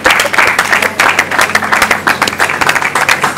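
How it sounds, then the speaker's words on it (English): A studio audience claps loudly for a pair of twin performers, the applause steady and dense for the whole stretch, with a few whoops and crowd voices mixed in. "A round of applause, please."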